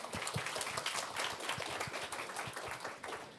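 Audience at a corporate research-and-development job talk applauding a presenter as he is introduced, a steady wash of many hands clapping at moderate volume throughout with no talking over it.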